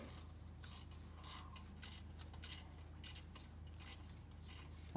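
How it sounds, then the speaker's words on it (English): Rapid, quiet clicking of a 10 mm ratcheting wrench as hardware comes off a Yamaha G29 golf cart motor and rear end, in short close bursts of ratchet ticks over a low steady hum. "I'm using a 10 millimeter ratcheting wrench to remove the hardware from the motor and the rear end itself"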